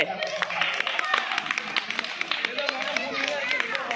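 A crowd claps at a Pongal games contest, scattered sharp claps under continuous, busy outdoor voices and shouting.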